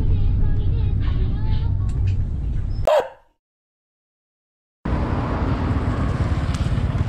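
A long-distance bus sets off from Battambang toward Phnom Penh in Cambodia. Its low engine rumble drones steadily from inside the cabin, drops to silence for about two seconds, then returns at the same level.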